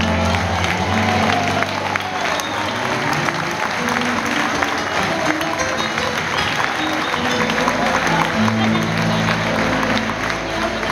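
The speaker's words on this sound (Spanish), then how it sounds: "un fuerte aplauso" Audience applause and cheering after a live song performance, steady, loud clapping from many people with some crowd noise, sustained throughout.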